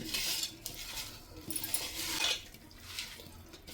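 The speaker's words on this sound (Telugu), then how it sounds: "ఇవన్నీ ఒక్కసారి కలిపేసుకుందాం" A utensil stirs oil and chopped coriander together in a cooking pan, making a continuous scraping, swishing sound in uneven strokes, fairly close and without talk.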